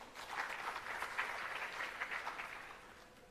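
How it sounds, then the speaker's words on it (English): Applause from an audience at the launch event for technology centres of excellence: a soft, continuous wash of many hands clapping, heard somewhat distant and even throughout. "Let's give him another round of applause."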